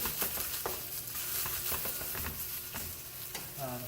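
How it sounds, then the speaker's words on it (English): Carrots and asparagus sizzle in a pan with a steady soft frying crackle, while a utensil scrapes and stirs in repeated light strokes close by. "I'm going to get a little bit of caramelization going with the carrots."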